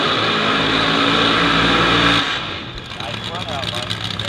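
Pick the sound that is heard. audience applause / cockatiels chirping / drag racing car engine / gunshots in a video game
drag racing car engine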